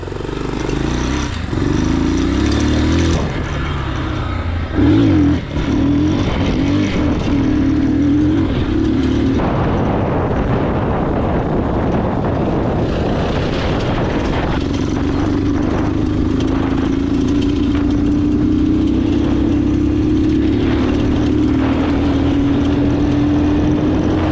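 A Geon X-Road Light 200 motorcycle with about 7,500 km of use rides out onto a field. Its engine drones loudly and continuously close by, and the pitch climbs steadily as it accelerates, with wind noise throughout.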